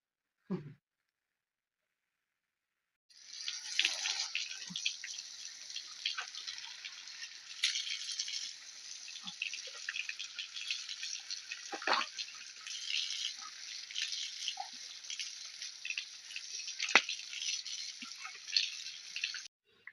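Water runs steadily from a tap as a banana blossom is washed, a soft continuous splashing that starts after a short silence, with occasional clinks and drips.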